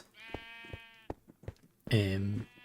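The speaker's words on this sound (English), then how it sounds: "Got some sheep there, lots of sheep." Sheep in the Minecraft video game give a few faint clicks and small taps, then one loud, wavering bleat near the end, heard alone and close.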